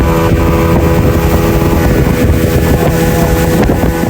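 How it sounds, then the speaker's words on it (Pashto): A speedboat races across the water at Khanpur Dam, a loud, close, steady motor roar mixed with wind buffeting and rushing water, sustained throughout with no talking. "یو دم کښتۍ سپیډ ولګوی"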